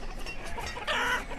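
Chickens cluck in the village-building game Banished, a short run of soft clucks and a rising cackle heard faintly alone.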